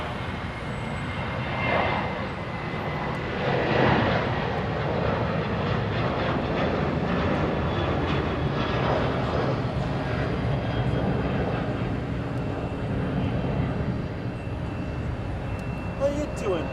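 A Sun Country airliner takes off from LAX, a loud, steady jet-engine roar held throughout, with a voice speaking over it.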